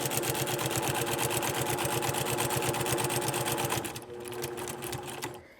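Sewing machine stitching fabric along a welt, a loud, steady rapid rattle of needle strokes running continuously before slowing and fading near the end.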